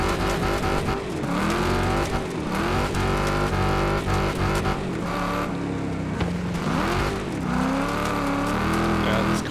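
Race car engine in Wreckfest 2, badly damaged after a crash, roars steadily and loudly throughout, with pitch rising and falling as it revs through corners and tires occasionally squeal.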